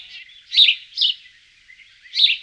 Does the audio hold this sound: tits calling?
yes